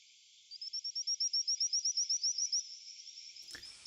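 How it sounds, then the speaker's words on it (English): Unusual frogs calling in a fast, even train of about twenty high, bright pulses, a steady electronic-sounding trill that fades into a thinner run before a soft thump. "So these are frogs that are making this sound."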